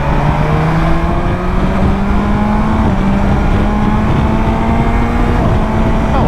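A BMW S1000XR motorcycle engine, not yet run in, holds a loud steady high-revving drone near its rev limiter, with pitch creeping upward under constant wind rush.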